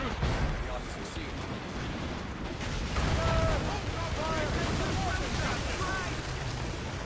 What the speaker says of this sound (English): Make good use of your own mortars, Shay